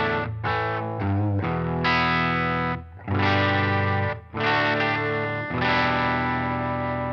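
Electric guitar played through the first factory preset of a Line 6 POD GO multi-effects unit, heavily distorted with chorus, loud chords and short riffs that stop and start with brief gaps, no talking.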